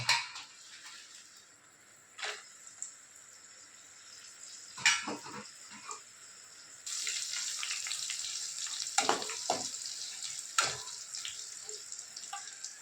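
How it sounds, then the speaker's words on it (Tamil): Thirty grams of dried red chilies fry in hot oil, starting as a faint crackle broken by a few sharp clinks and stirs, then settling into a louder, steady sizzle, with no speech. "இப்போ எண்ணெய் காஞ்சிச்சு நான் இந்த முப்பது கிராம் மிளகாயை வறுத்துக்கிறேன்"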